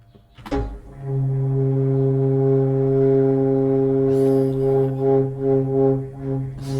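A repitched sample played on a PO-33 pocket operator booms out as a loud, sustained low foghorn-like drone, holding steady before wavering toward the end, with no voices.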